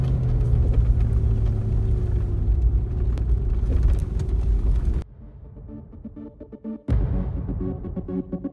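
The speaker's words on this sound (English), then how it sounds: "it's a heavy vehicle. I'm in low gear. And this vehicle is doing its maximum right now." Heavy off-road vehicle engine labouring in low gear on a trail in NSW, Australia, a loud continuous rumbling drone that drops away sharply midway, then surges back for the final seconds.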